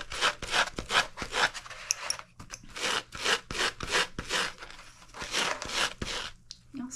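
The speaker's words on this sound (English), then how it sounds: "Light sanding." Light hand sanding of cured colored UV resin on the bottom of a clear wine glass, a dry raspy scrubbing in quick repeated back-and-forth strokes, close and fairly loud, with no talking.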